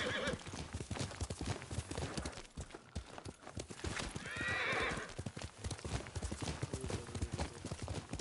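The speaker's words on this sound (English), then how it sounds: "Yuriko's horse. She can't be far." A horse's hooves clip-clop in a steady, quick rhythm in the Ghost of Tsushima video game, and a loud whinny rises partway through over the continuing hoofbeats.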